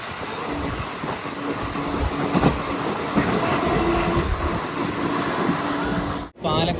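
A passing train overtakes the waiting Thrissur–Kannur Express near Tirur station, its steady rumble and clatter filling the scene at close range with a brief dip near the end; a voice talks over it.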